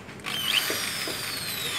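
A power drill bores a large hole while assembling a small 220 V AC washing machine program test rig, a steady whirring whine with a faint ratcheting catch, close and unaccompanied by talk.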